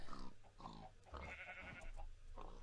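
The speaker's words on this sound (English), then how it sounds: "Chicken, sheep, pigs, cows." Minecraft farm animals, including chickens, sheep, pigs and cows, make a string of short bleats and grunts one after another. The calls sit close and fairly loud against a faint hum of game ambience.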